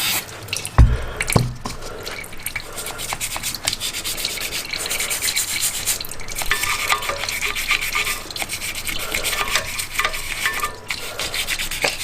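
Oil trickles and drips steadily as it drains from a 1988 Kawasaki KLF300 Bayou engine, with faint rubbing and scraping noises close by, continuous and fairly quiet, no voices.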